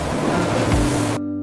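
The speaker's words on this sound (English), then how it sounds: "A water jet cleans away dirt and debris." A water jet sprays potatoes clean in a chip factory washing line, giving a loud, dense, continuous hiss and rush that cuts off abruptly.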